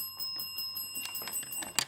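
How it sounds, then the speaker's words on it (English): A bell rings to end a junior schools quiz match, sounding as a series of rapid, bright repeated strikes with sustained high ringing tones, fairly faint and without speech. "that bell signifies the end of the match"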